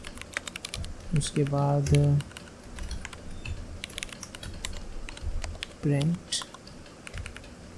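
Rapid clicking of keys on a computer keyboard while someone speaks in short bursts.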